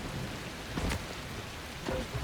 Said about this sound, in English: And of course, it is raining.